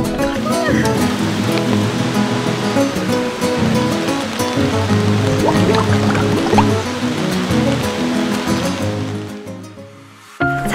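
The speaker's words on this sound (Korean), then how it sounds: "이 정도면 거의 폭포 아니야?" Heavy rushing valley stream swollen by rain, roaring like a waterfall at a campsite; a loud, continuous broadband wash close by, steady throughout before briefly dropping away near the end.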